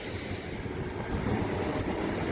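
A fishing boat with a powerful motor pushes through rough open sea, its broad rushing roar of water and wind noise steady and close throughout, swelling slightly toward the end.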